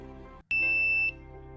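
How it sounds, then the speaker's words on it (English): A motion detector alarm in an automation demonstration gives one loud, sustained electronic beep of about half a second after a brief pause, with background hum around it. "the alarm starts beeping and the LED is also glowing"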